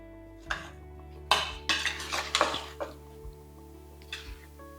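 Metal spoon clinking and scraping against a pot as sesame oil is stirred into tomatoes, a handful of irregular knocks and scrapes over a steady low hum, close and moderately loud.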